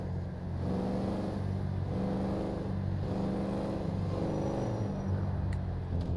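Fast car in GTA revving and accelerating in a steady, moderately loud whine, with rhythmic rises and drops as the engine climbs through gears, heard on its own without talk.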